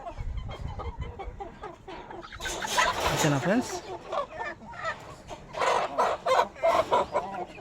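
Five-month-old hens cluck and squawk in bursts at a poultry farm selling young birds, fairly close and busy throughout, with someone talking over them.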